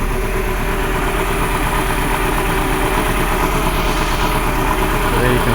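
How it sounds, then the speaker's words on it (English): A 1995 Mercedes Model 210 idles with a persistent misfire in a running-rich condition, giving a loud, close, steady engine drone with an uneven, shaky pulse throughout and no talking. "So it starts up really okay, but it has a persistent misfire"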